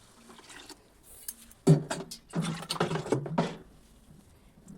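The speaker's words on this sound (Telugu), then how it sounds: "ఇప్పుడు మనం దీనిలో వాటర్ పోసుకోవాలి." Water is poured into a pot of spiced rice for egg pulao, producing a short, fairly faint run of splashing and patter in the middle, with quiet before and after.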